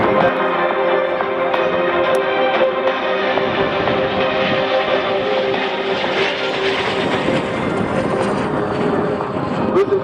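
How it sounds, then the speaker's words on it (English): Rolls-Royce Nene 10 jet engine powering a T-33 Mako Shark jet at an air show; a loud, sustained roaring rumble with a rising whine, heard fairly close and steady throughout. "That sound is produced by the Neen 10 jet engine built by Rolls-Royce."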